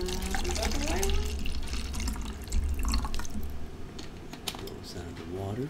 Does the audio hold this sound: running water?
yes